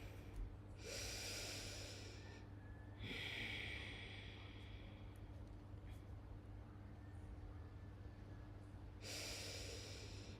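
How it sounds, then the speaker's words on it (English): Deep yoga inhales taken through the nose, three long, airy breaths spaced several seconds apart, close and quiet over a steady low hum. "big inhale"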